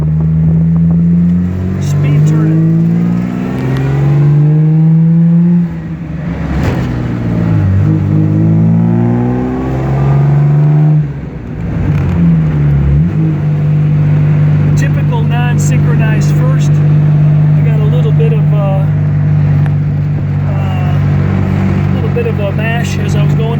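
A 1953 Jaguar XK 120 engine revs and accelerates up through the gears, loud and close, with rising and falling pitch at each shift and a brief lull between pulls; a voice can be heard over the engine.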